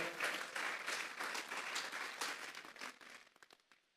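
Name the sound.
congregation applauding in church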